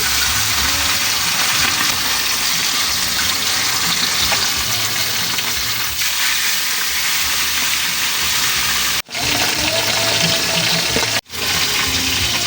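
Cooking oil fries in a pan, a dense, continuous loud sizzle and crackle lasting throughout, with two brief dropouts near the end.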